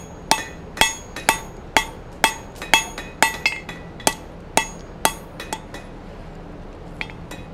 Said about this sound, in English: forge this taper down first